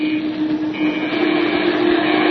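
Failing bomber plane engines in a radio drama sound effect give a continuous loud droning hum with a steady tone and a slight swell toward the end.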